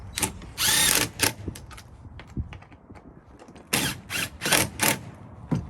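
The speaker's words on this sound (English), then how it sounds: "Tighten this side up." A ratchet tightens bolts during a vault install on an RMAX 4-seat vehicle, heard as several short, close bursts of rapid mechanical clicking separated by quieter gaps.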